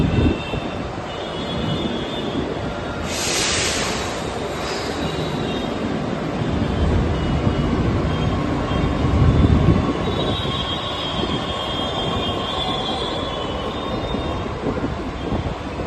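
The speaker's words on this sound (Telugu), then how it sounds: "ఇక్కడే ట్రైన్ ఆగింది. ఇది నోయిడా సెక్టర్లో ఉందన్నమాట. సో ఇప్పుడు కదులుతుంది చూడండి." A Delhi Metro train pulls out of an above-ground station in a Noida sector with a low, building rumble of wheels and motors, brief high squeals and a chime near the start, heard up close.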